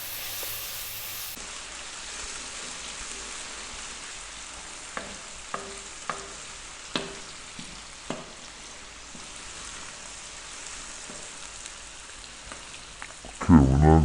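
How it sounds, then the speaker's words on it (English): Tomatoes cooking down in a pan for a vegan yellow dal, a soft continuous sizzle with a few sharp clicks and taps of a utensil, ending in a brief loud clatter. "Really want to cook these tomatoes right down."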